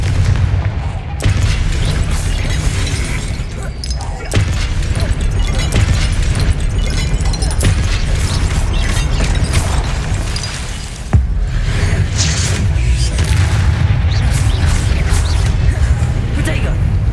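Confringo spell blasts in the Hogwarts Legacy game come as repeated loud booms and explosive bursts amid a dense, continuous combat din, with voices shouting spell names over the fight.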